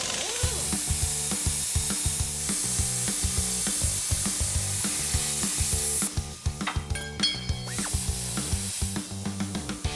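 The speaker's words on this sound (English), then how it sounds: "since it's welded on, the best tool to use to get rid of this is a plasma cutter" Plasma cutter slicing welded angle iron off an old Ford truck frame, a harsh continuous crackling hiss with rhythmic buzzing pulses that breaks into sputtering bursts near the end.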